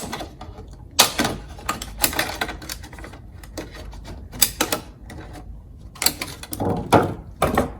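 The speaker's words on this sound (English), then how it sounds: "maybe use the covers of these, you can cut them up into strips." Scissors snip through plastic container lids to make strips for bonsai plant labels, sharp crisp cuts in uneven clusters, close and fairly loud with quiet gaps between.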